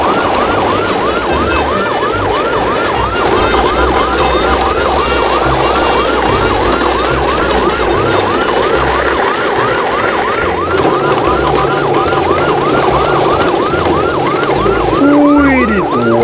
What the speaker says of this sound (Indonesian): Widih, lihat teman-teman, ada mobil ambulan.